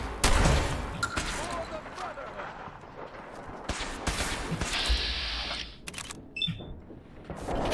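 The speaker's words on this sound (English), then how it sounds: "The flying vehicle! It is attacking!" Gunfire from an attacking flying vehicle in Fallout 4: loud, cracking bursts of shots over a busy, cluttered battle mix, with voices talking throughout.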